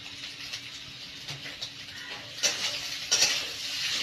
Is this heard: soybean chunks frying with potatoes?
yes